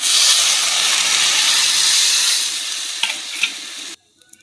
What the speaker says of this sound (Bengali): আমার কষানো হয়ে গেছে, এবার আমি জল দিয়ে দিচ্ছি